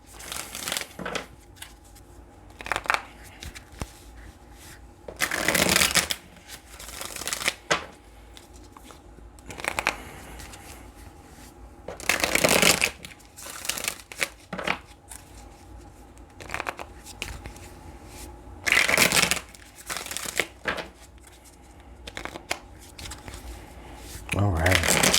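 A tarot reader shuffles cards from a second deck in repeated bursts of riffling and flicking, each lasting a second or so, with quieter pauses and soft handling noise between them.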